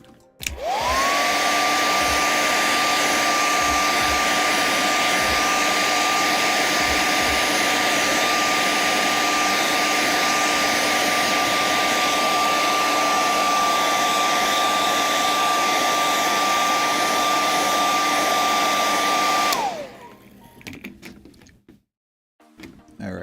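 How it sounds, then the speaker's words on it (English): A hair dryer blasts steadily on a gummed-up lid in a workshop, a loud, constant whining roar that spins up, holds for about twenty seconds and then cuts off, leaving quiet shop handling. "I'm just going to hit this with a hairdryer for a second to loosen it up so I'm able to open it"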